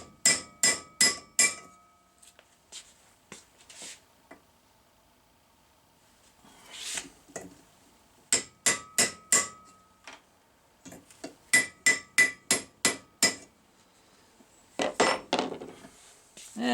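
Thin sheet metal flange hammered into a bend: bursts of sharp, ringing metallic strikes in quick runs of three to six blows, separated by short quiet pauses and a few lighter taps.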